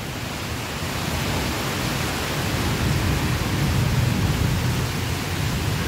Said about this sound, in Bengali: এত বৃষ্টি মারাত্মক, তার মধ্যে বৃষ্টি চমকাচ্ছে